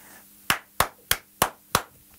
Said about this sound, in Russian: хлопнув в ладоши несколько раз